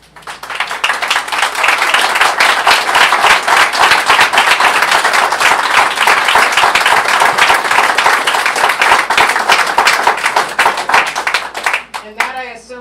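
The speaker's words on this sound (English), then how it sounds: "that, I assume, is the applause I was going to ask for both candidates" Audience applause at a New Mexico House District 50 candidate forum, loud dense clapping that swells quickly and holds for about eleven seconds before fading, with a voice starting to speak as it dies down.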